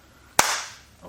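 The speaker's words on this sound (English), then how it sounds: "Just clap." A single sharp hand clap, close and fairly loud, with a short ringing decay in a room and a faint sound just after.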